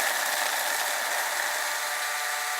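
A food processor grinds cookies with sugar and cinnamon in a steady, loud, continuous whir, heard up close without speech.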